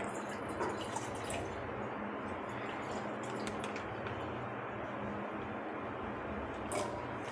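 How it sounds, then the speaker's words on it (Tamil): Steady pouring of milk into a pot, with a soft trickling, splashing texture, continuous and close, with no voices. "பால் எடுத்து கொஞ்சம் ஊற்றி ஒரு 6 பாக்கெட் அளவு ஊற்றி காய்ச்சிக்கலாம்"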